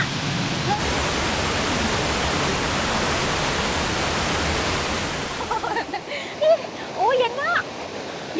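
Steady roaring rush of falling water at Ton Chong Fa Waterfall, Phang Nga, Thailand, fills most of the clip, then drops away near the end, where voices speak briefly over a quieter background.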